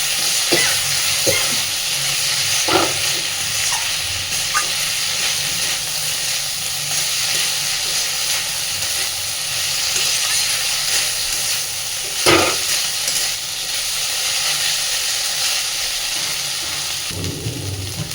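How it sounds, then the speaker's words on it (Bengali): Dried loitta fish shutki fries with potatoes and spices in hot oil, a steady dense sizzle throughout with occasional spatula scrapes and one louder clack, close and continuous. "এবার খুব সুন্দর করে সব কিছুকে একটু সময় নিয়ে ভেজে নেব।"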